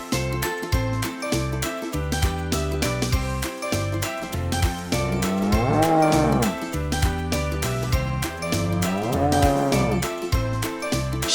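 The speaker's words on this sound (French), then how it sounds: "Vache." A farm cow moos twice in long, drawn-out calls over a steady backing of music with jingling tones, the lowing rising clearly above the melody around the middle and again near the end.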